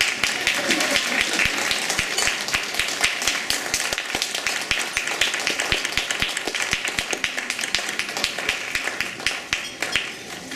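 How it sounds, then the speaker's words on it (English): A gala audience claps hard and without a break, a dense roar of many hands with sharp individual claps cutting through, holding loud and even across the whole stretch. "Keep clapping, she's still coming."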